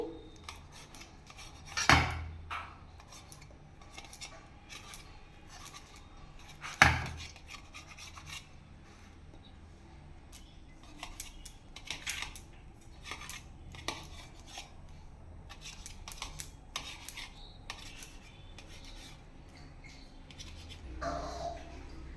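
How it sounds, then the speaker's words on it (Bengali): A knife cuts an omelette into pieces on a plate, with two sharp knocks early on followed by quiet scraping and light tapping, close and faint throughout. "এখন এই মামলেটগুলোকে পিস পিস করে কেটে নেব দেখুন আমি কিভাবে কাটছি"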